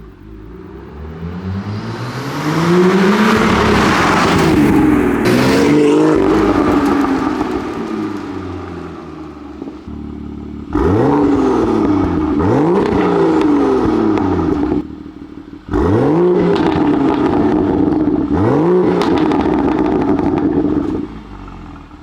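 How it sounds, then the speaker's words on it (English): A car's engine revs hard on a test drive after service work, climbing and dropping through repeated loud acceleration sweeps with brief gaps between bursts, close and dominant with no talking. "I'm ready to take this car out for a spin."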